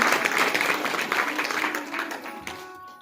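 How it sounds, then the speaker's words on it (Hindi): Audience applause at a Bhagwat Katha in a village, a dense burst of clapping from a crowd that fills the space and slowly fades toward the end. "प्रभु के जन्मोत्सव पर दे रहे बधाई के रुपए के लिए जोरदार तालियां"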